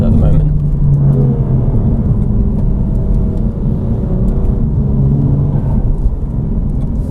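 Steady low rumble of a BMW M2 Competition with stock exhaust while driving, the road and engine drone quiet and muffled from inside the cabin, with no clear revving and a near-constant level throughout.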